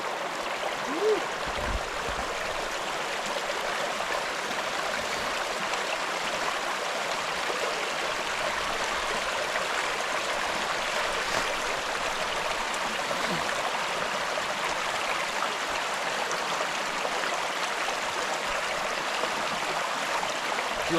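River flowing at a hiking trail crossing in Tasmania, a continuous broadband rush of water that stays close and steady for about twenty seconds with no talking.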